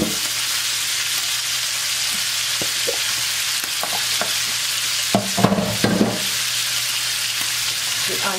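Potatoes fry in a pan with a steady, close sizzle, broken by a few scraping stirs and clatters near the end, and no talking.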